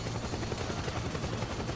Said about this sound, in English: You're sitting now. right under helicopters.